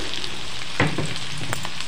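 Chopped tomatoes and salt go into a hot frying pan, setting off a moderately loud sizzle with a brief burst of crackling partway through and no one talking.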